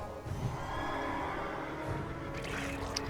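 A modern horse mount in World of Warcraft gives a clear, close whinny against a steady background of game ambience, with no voices over it.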